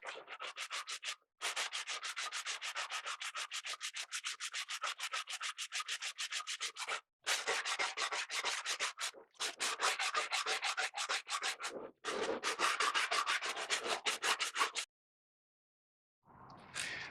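Close, rapid back-and-forth sanding strokes level wooden mandolin sides, glue squeeze-out and protruding kerfing, running in long bursts separated by brief pauses.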